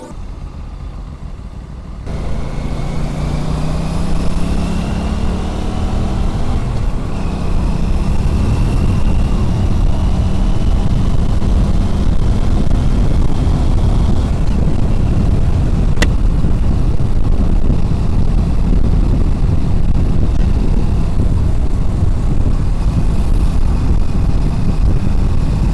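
An Aprilia RS 457 motorcycle engine revs from nearby, rising and falling in pitch over a continuous loud rumble, with wind buffeting across the microphone throughout.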